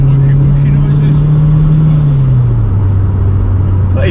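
A turbocharged Honda K20 engine in an EP3 Civic Type R drones loudly from inside the car while driving, a steady low engine tone that drops in pitch as revs fall, with faint turbo whoosh and occasional voices.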